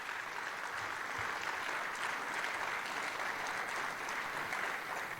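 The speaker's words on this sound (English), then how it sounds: "Could I have a big round of applause to say thank you?" Broad, even applause from a breakfast event audience thanking sponsors, a steady wash of many hands clapping at moderate distance, with no talk.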